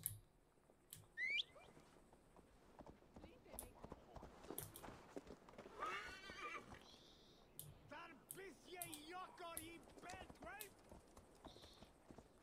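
Rhythmic hoof clip-clop of a horse moving along, with a brief whinny-like call near the start, amid busy game-style background sounds, from the video game Assassin's Creed Valhalla.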